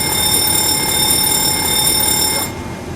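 A cockpit fire alarm bell rings in a Boeing 737-200 flight simulator, a steady loud continuous ringing that holds for about two and a half seconds and then cuts off, leaving cabin hum.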